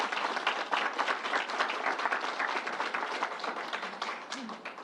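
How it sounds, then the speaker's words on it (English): Crowd applause at the New York State Fairgrounds during a governor's announcement event, a dense, steady wash of many hands clapping that holds for the whole stretch at even loudness. "Let's give Troy a round of applause"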